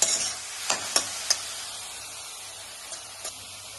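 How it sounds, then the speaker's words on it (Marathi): Chopped vegetables for momo filling sauté on high flame, a soft continuous sizzle broken by a few sharp scraping taps of a spatula early on, then quieter stirring, close and without talk. "हाय फ्लेमवर भाज्या परतून घ्यायच्या."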